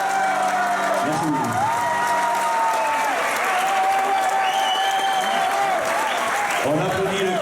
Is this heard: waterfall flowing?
no